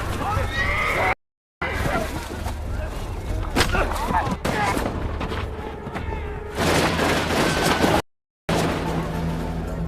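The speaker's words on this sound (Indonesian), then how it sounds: "tiba-tiba tembakan misterius langsung menghujani para pasukan Jepang" Gunfire on a battlefield against Japanese troops in a war film: bursts of shots and booms mixed with horses whinnying and hooves, loud and busy, with brief silent gaps and talk over parts.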